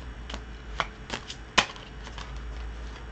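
Tarot cards being handled and drawn, with light scattered flicks and taps of card stock and one sharper snap near the middle, soft and close over a low steady hum; no talking.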